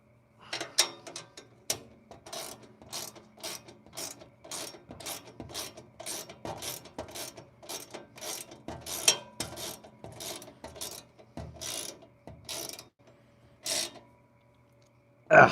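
Bolts being tightened while a Harbor Freight tool cart is assembled, a long run of quick rasping ratchet clicks close by, in regular bursts with short pauses and a sharper clank at the end.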